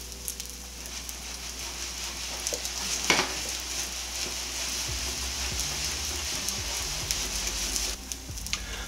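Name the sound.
mashed potato pancake batter frying in a pan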